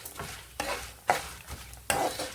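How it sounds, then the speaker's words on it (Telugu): Tempering spices fry in oil over a low flame for pindi pulihora, a soft sizzle broken by four or five distinct stirring scrapes at uneven intervals, close and fairly quiet. "ఇవి లో ఫ్లేమ్లో వేగాలండి, అప్పుడే బాగుంటాయి."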